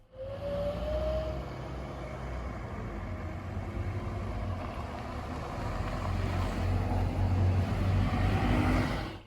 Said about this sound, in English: Here is a bus leaving the layover area.